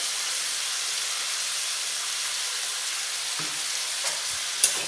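Chicken pieces seasoned with salt and turmeric fry in a pan, giving a steady, bright hiss and crackle of hot oil with a couple of small pops near the end and no talking.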